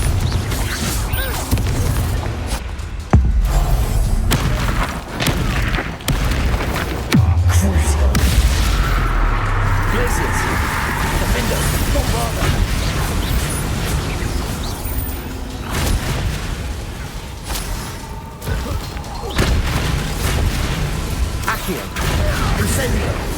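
Confringo blasting spells going off in Hogwarts Legacy, repeated booming blasts and crashes through a busy battle, with spoken spell incantations over the clamour.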